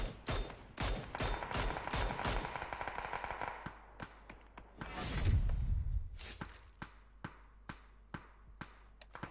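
Video game gunfire in a multiplayer match: rapid bursts of sharp automatic shots, then a heavy whooshing blast, followed by sparse single shots spaced out, all crisp and close.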